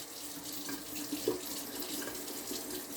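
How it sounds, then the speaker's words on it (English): Tap water runs steadily into a Mount Fuji mug, a continuous close hiss of flow with a faint clink partway through, heard alone with no talking. "I'm gonna go ahead and fill my Mount Fuji mug up in case I need more water in the future."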